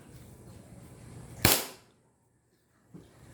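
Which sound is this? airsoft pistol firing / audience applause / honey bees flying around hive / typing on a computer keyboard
airsoft pistol firing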